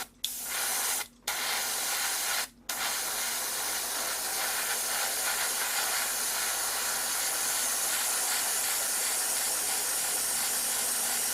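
An airbrush sprays lacquer-based Mr. Color White paint, a steady close hiss that starts with two brief bursts and then holds continuous.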